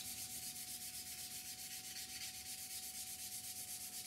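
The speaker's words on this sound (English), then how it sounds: "the only thing is take out the scratches. So we're going to be doing that by going back through various grits" Steady, rhythmic sanding strokes rub across a surface to take out scratches while working back through various grits, a quiet, even scratching repeated at a quick regular pace with no talk.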